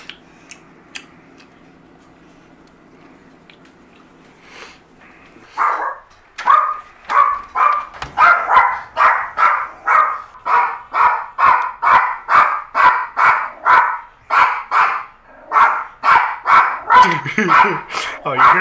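A dog barks over and over in a steady, rapid series, fairly loud and close, after a few seconds of quiet background.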